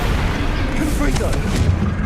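A Confringo blast curse from the video game Hogwarts Legacy goes off as a heavy booming explosion with a rumbling low tail, surrounded by continuous loud combat noise.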